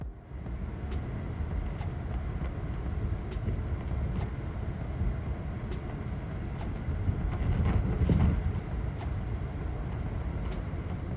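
Amtrak Pennsylvanian passenger train rolling along the tracks, a steady low rumble with faint periodic rail clicks, heard from the rear car at a moderate distance with no talk.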